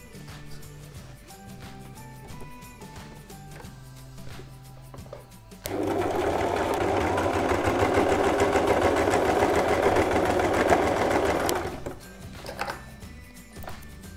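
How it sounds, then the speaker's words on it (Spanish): Sewing machine running in one steady burst of fast stitching for about six seconds, stitching a side of a baby travel changing mat, with quieter handling sounds before and after. "Quitamos un lado y cosemos ahora"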